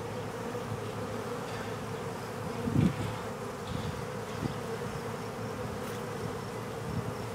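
Honeybees buzz in a steady, close drone while a hive is opened for inspection, a dense insect hum holding at even loudness with small swells and no voices.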